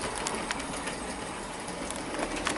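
A Hornby SR Drummond 700 model locomotive runs along a layout past sidings, giving a continuous close whirring, rattling rumble with faint clicks from the track.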